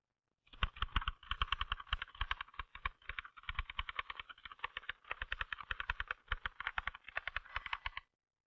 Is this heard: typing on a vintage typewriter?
yes